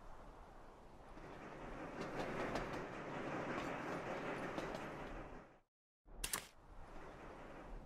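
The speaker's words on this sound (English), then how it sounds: "We've got a coal train delivering." A coal train rumbles along in the Sweet Transit video game, a dense steady clatter of wheels and carriages that cuts out abruptly before a brief sharp burst and resumed rumble.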